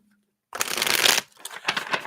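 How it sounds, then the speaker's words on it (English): A deck of oracle cards is shuffled by hand, a close, brisk riffling burst followed by a few shorter flicks of the cards. "shuffle those"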